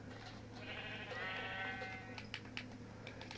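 In the Minecraft video game, a sheep lets out one drawn-out bleat, quiet and alone, followed by a few faint clicks from play.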